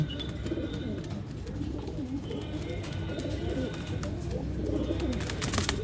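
An old line pigeon coos steadily nearby in a loft, soft repeated throaty calls over a busy background murmur, with faint chirps from other birds.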